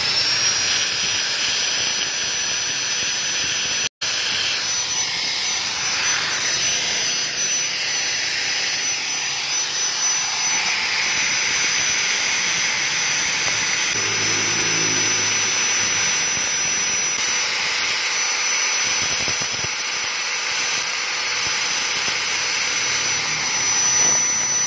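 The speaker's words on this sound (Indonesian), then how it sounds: "Kita pakainya gerinda aja." An angle grinder shrieks steadily while grinding down a metal carburetor part for a Scorpio motorcycle, loud and close for the full length, its pitch wavering slightly as pressure on the part changes, with no talk.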